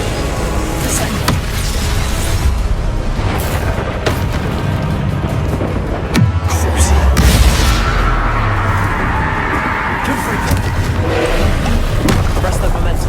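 A Descendo spell impact in Hogwarts Legacy, during a trial at Rookwood Castle, lands amid a dense, loud barrage of booming hits and crashes, with one heavy slam standing out midway over a continuous roar of combat noise.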